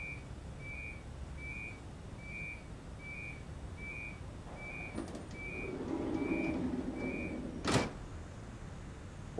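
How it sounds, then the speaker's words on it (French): Departure whistle in Train Simulator 2022 at a station on the Strasbourg to Karlsruhe run with a BR 181.2 locomotive: a series of short, evenly spaced tonal whistle pips over a steady low rumble, followed by a door thud and a sharp bang. "Voilà, on a le coup de sifflet"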